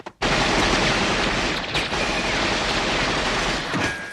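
Loud, sustained automatic gunfire from a scene in the 1980s action film Beverly Hills Cop starts abruptly and fills the whole stretch as a dense, noisy barrage with no pauses.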